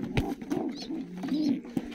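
Pigeons coo softly in low, repeated throaty warbles, close by, with a few faint higher calls mixed in; breeding and flying pigeons.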